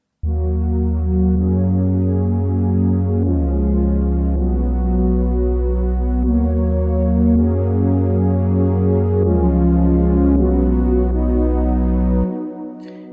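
A warm, sustained synthesizer pad recreating the pad from a track plays slow chord changes, smooth and dark in tone, fading out at the end.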